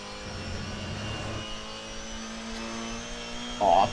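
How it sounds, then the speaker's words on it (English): A touring race car in the 2021 IVRC TCC at Donington, held at a steady engine drone through the lap, with a brief sharper rise in pitch near the end. "Now let's drive a lap with the leading car."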